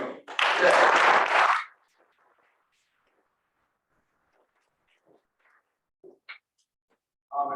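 Audience applause at a real estate investors' general meeting, a dense burst of clapping from a room of people lasting about a second and a half, then near silence with a few faint taps and a brief voice at the end.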